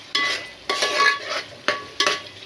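Ginger garlic paste ground with coriander and cumin frying in a pan, with a soft steady sizzle broken by four sharp bursts of stirring and spoon scraping, close and clear with no talking.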